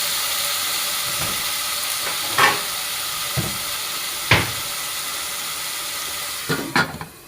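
Chicken cooks covered in a pan over low heat, giving a steady soft sizzle, with a few sharp clinks and thuds from the pan scattered through it.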